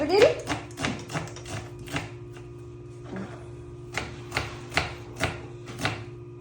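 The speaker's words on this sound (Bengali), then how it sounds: "দেখো সে কত সুন্দর করে পেঁয়াজ কাটে।" Knife chopping onions on a board in a home kitchen, a steady run of sharp taps close by with brief pauses, under a constant background hum and faint talk.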